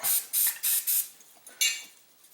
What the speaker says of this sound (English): I'll squirt a little oil.